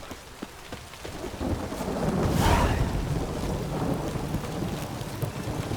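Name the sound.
thunderstorm in The Witcher 3 video game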